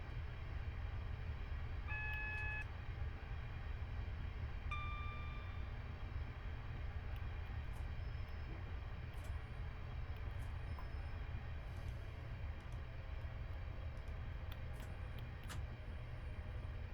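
A Class 365 electric train in Train Simulator 2020, running between Edinburgh and Glasgow and nearing tunnels, gives a steady, even cab rumble throughout, with a couple of brief tonal beeps early on and no talk.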